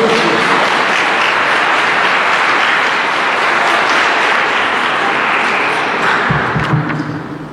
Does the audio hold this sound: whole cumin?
no